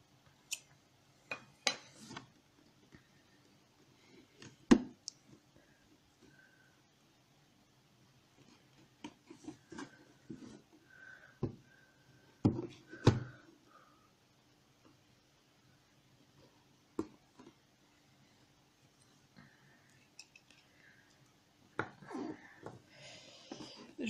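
Cardboard and plastic packaging of a Disney Animators' Collection Littles Tinker Bell micro play set being opened, scattered crinkles, taps and clicks close up in a quiet room.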